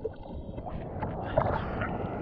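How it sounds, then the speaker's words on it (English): A surfer hand-paddles a surfboard through the sea, producing soft, close splashing and gurgling water strokes over light wind noise, with a slightly louder splash near the middle. "By hand, paddle like a surfer."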